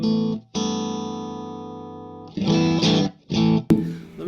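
Electric guitar through a Mesa Rectifier amp on the clean channel, Recto Matchless voicing: a sustained ringing chord that decays slowly, followed by several shorter strummed chords, loud and alone.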